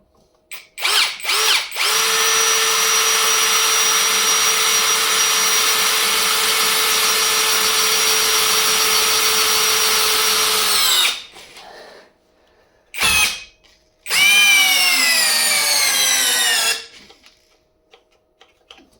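Small LEADER cordless impact screwdriver rated 45 N·m with impact function, on a charged 4 Ah battery, whines loud and steady under load for about ten seconds, then gives a few shorter bursts before stopping; nobody speaks.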